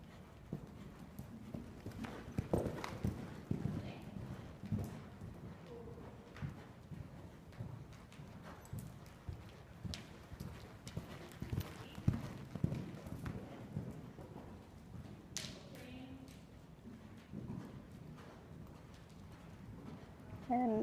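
A horse trotting in a riding ring, approaching and going over a jump, with soft rhythmic hoof beats running steadily throughout alongside faint birdsong and a low background of voices.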